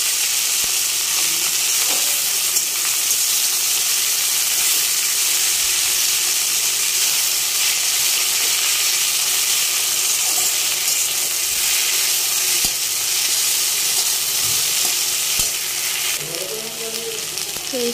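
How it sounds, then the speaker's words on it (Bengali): Chopped jute leaves fry in hot oil for a Bengali dal, giving a steady, close, dense sizzle that holds for the whole stretch, with a few soft stirring clicks near the end. "পাট শাক অল্প ভাজা ভাজা করে নেব, তারপরে বাকি সব মশলাগুলি দেব।"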